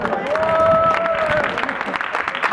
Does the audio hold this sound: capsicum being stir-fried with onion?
no